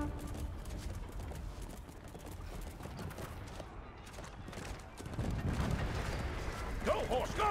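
Rapid thudding hoofbeats of a galloping horse amid a chaotic battle in the game Chivalry II, with bursts of gunfire-like crackle growing louder toward the end.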